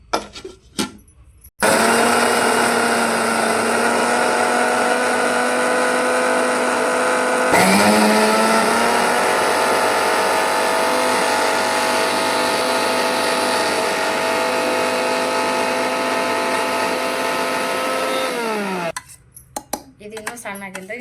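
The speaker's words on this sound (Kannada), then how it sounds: "ಈಗ ಇದನ್ನು ಮಿಕ್ಸರ್ ಮಾಡ್ಕೊಂಡ್ಬಿಡೋಣ್ರಿ." A mixer grinder blending flax seed chutney whirs loudly and continuously for about seventeen seconds, its pitch shifting once partway through, then winds down, with brief quieter handling before and after.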